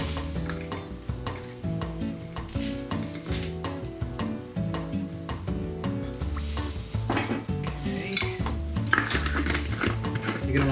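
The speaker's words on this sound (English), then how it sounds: "You're going to want to stir that in so it melts." Sugar being stirred into hot wing sauce, a spoon scraping and clinking against the pan in quick repeated strokes over a strong sizzle, close and busy, with a steady tonal hum underneath and no clear talking.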